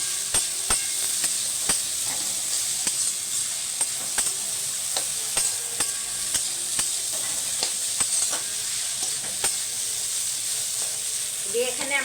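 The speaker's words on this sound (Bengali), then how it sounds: "এবারে আরো একটু নাড়বো।" A spoon stirs flattened rice pulao with eggs in a pan, making a steady hiss of frying punctuated by regular sharp scraping clicks against the pan, close and continuous.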